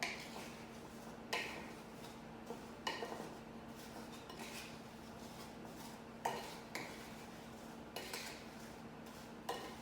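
A utensil clinks against a bowl in repeated, evenly spaced taps while lemon juice is stirred into apple pie filling. The clatter is close and fairly quiet, with no talking over it.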